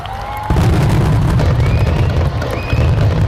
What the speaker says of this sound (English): Now, clearly there are gunshots.